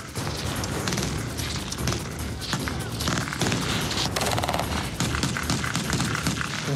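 Sustained machine gun fire covers a commando landing exercise with an armoured vehicle on Réunion, a dense, continuous clatter of rapid shots and booms running loud throughout.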